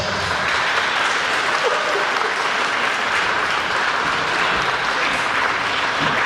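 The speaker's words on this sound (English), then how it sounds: "Round of applause" Comic con audience at a Q&A panel applauding an introduced actor, a sustained, even roar of clapping that stays steady and fairly loud for several seconds with no speech over it.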